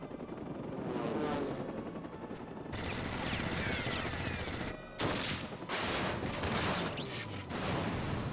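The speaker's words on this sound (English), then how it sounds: "Gunshots!" Rapid bursts of automatic gunfire in the video game Final Fantasy XIV crackle almost nonstop, dense and loud, with brief pauses between volleys and a low mechanical rumble beneath.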